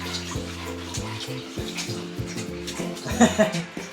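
Water poured out for thirsty animals, a steady splashing trickle heard throughout while people talk over it nearby.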